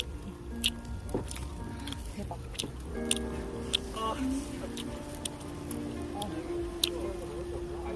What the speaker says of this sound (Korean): 고기를 먹어볼게요